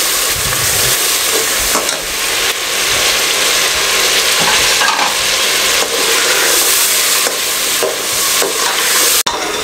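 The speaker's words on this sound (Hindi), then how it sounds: "यहाँ पे फ्राई हो रहा है हमारा गोश्त" Beef pieces for haleem fry loudly in a pan with a constant dense sizzle, punctuated by stirring and scraping strokes throughout; close and steady with no voices.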